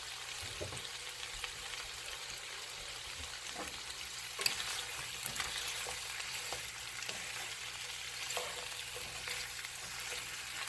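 Kielbasa skillet dish frying in a pan, a steady close sizzle with intermittent scrapes and clinks as it is stirred, no talking.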